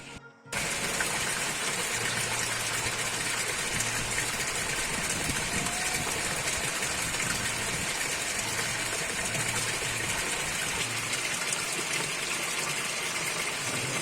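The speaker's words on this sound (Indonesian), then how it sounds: "hujannya masih deras ya, bahkan lebih deras dari yang tadi" Heavy rain pours down over a village of raised stilt houses, a dense unbroken hiss that holds steady throughout with a low rumble underneath and no voices.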